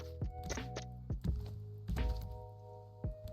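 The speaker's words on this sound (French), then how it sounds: "Quand tu cours, tes bruits de pas par terre, tes bruits de pas mouillés sur le bois là" Wet footsteps running across a wooden floor in a video game, a handful of distinct thudding steps spaced irregularly over a few seconds, close and moderately loud with no talk.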